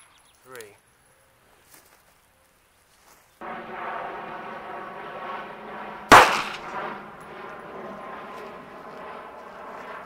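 A single .380 ACP pistol shot fires a Hornady Critical Defense round into layers of denim, a sharp, loud crack about two-thirds through over a steady background hum, with a few faint knocks before it.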